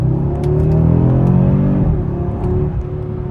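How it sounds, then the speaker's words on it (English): Audi RS3 inline-five engine revving in manual mode, a loud, steady throaty drone that rises and then drops in pitch, close and alone. "let's put it in manual mode so we can actually hear that motor"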